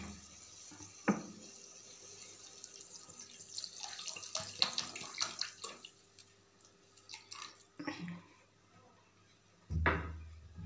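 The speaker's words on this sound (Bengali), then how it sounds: "আর একটু জল দেবো, কারণ একটু পাতলা ঝোল থাকবে।" Water is poured into a potato, pointed gourd and soybean curry, giving a faint trickle and splash in the middle, scattered soft knocks, and a sharper clank near the end.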